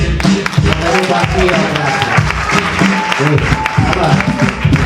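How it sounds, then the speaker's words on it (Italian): Audience applause at an indigenous artists' music show, dense steady clapping sustained throughout with a voice talking over it. "adesso se volete un applauso"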